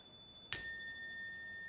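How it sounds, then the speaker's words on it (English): A single chime is struck once, a clear bright ring that sustains and slowly fades, heard close and alone in a quiet room. "I'm going to play the chimes because a little bit of sound"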